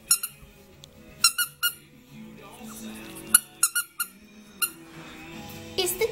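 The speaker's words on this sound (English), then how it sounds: "Did you hear this toy squeak?" A squeaky dog toy is squeezed in quick, sharp bursts: a few single squeaks, then clusters of two or three, with soft rustling between.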